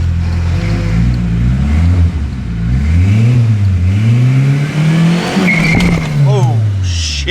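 Ford TX5 Turbo revving hard and accelerating on the road, a loud engine drone rising and falling in pitch over several surges, with a brief squeal near the end.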